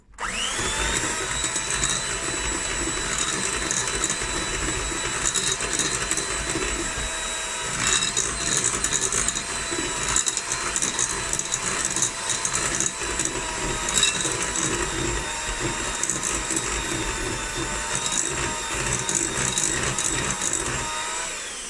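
Electric mixer beating creamed batter with a tablespoon of vanilla and an egg for a milk tart, a steady whirring motor hum that runs continuously with slight fluctuations in pitch and load.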